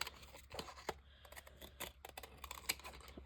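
Scissors snipping around a paper circle in a crafting session, a run of short crisp cuts and paper rustles spaced irregularly, close and fairly quiet, with no one speaking.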